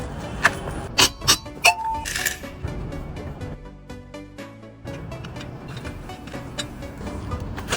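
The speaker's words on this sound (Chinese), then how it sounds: "来，先把轮胎给它拆掉。" A car wheel comes off for a brake pad change: a few sharp metallic clanks and clicks early on, then quieter ticking and rattling of tools and parts nearby.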